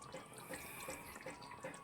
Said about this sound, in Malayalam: ഇനി നമുക്കിതിലേക്ക് ഒരു ഇച്ചിരി വിനാഗിരി ഇച്ചിരി വിനാഗിരിയും കൂടി നമ്മൾ ഒഴിച്ചു കൊടുത്താൽ